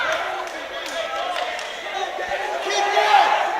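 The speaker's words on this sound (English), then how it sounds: "The crowd encroaching on the ring. They're loving it." Crowd at a boxing fight pressing close around the ring, a steady broad roar of cheering and shouting that swells toward the end, with voices mixed in.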